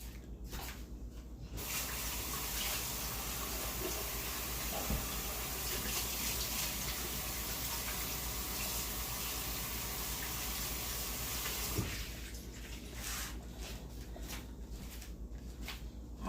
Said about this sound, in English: I'm going to wash my hands up because I've had raw meat